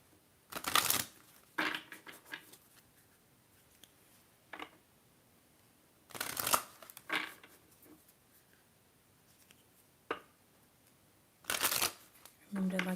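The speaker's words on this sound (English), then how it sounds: "let's take a look at your Moonology cards" Moonology tarot cards are shuffled in several short bursts, close and crisp, with quiet pauses between them and soft speech in places.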